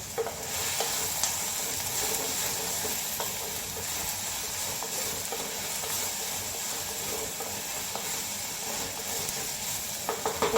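Snake gourd gravy sizzles and fries steadily in a pan while a spoon stirs and scrapes it, a close, continuous crackle with small clicks of the utensil and no talking.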